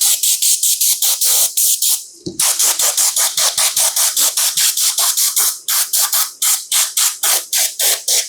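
Aerosol paint sprayed onto milled leather FootJoy golf shoes in a long run of short, close hissing bursts with brief gaps, one longer pause near the start.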